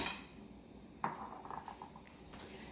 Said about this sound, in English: I'm going to put a cup and a half of noodles